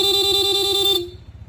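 A Honda ADV160 scooter sounds one steady, loud horn blast lasting about a second, then cuts off, leaving a low, rhythmic engine idle.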